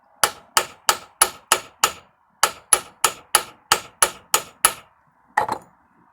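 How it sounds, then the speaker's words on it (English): A hammer taps a part onto a 1958 AMC Rambler Super in a crisscross pattern, giving sharp, evenly spaced metallic knocks, a run of six, then a pause, then eight more and a final double tap, close up and isolated. "Just gonna give it one more couple of taps. In a crisscross pattern."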